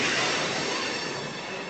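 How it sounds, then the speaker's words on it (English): A train rumbles past at close range beside the Lehigh River Canal Path, a steady broad roar with a faint metallic squeal from the wheels, slowly easing off. "That was a choo-choo train."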